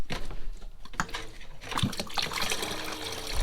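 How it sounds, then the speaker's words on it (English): Water runs and gushes from household taps with air still in the pipes, splashing and sputtering unevenly in loud bursts close by, with no talking. "So we've now got running water in the taps."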